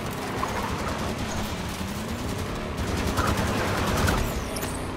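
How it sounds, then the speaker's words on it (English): Gunfire pelts the player in Halo 5: Guardians, a dense rattle of automatic shots and impacts running continuously over game background noise, loud and close throughout. "I'm getting shot up pretty good."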